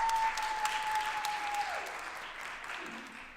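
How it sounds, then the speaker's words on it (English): A live audience claps on cue, the applause fairly loud and dense, then thinning and fading toward the end with a few scattered claps. "I want to hear a clap"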